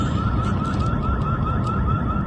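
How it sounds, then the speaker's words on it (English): A distant building alarm rings steadily with a sustained high tone, repeating without pause over a low rumble of background noise. "So it's definitely, that's a building alarm."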